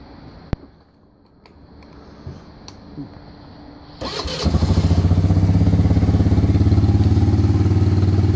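A 2016 Arctic Cat DVX 90 ATV starts after some quiet handling noises and settles into a steady, close, rapidly pulsing idle as it warms up.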